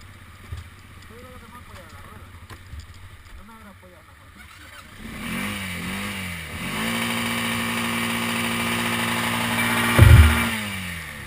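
A quad bike engine, left running, rises from a low idle into a steady mid-pitched drone, then gives one sharp rev near the end, with people talking nearby in the earlier stretch.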